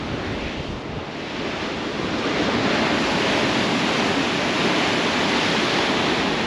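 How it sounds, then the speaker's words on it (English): Steady roaring wind buffets the microphone, a broad rushing noise that swells slightly louder after the first couple of seconds and stays constant throughout. "It's a little bit more windy up here."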